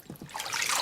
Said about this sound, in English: the water's still coming in at an alarming rate